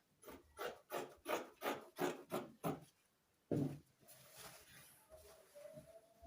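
Fabric for a kimono jacket is trimmed at the shoulder slope in about eight quick, evenly spaced rasping cuts close by, then one last stroke after a brief pause, with a faint voice afterward.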